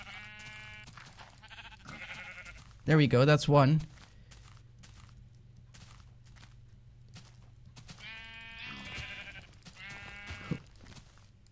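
In Minecraft, a sheep lets out a single loud, close bleat between stretches of footsteps, with someone talking before and after it.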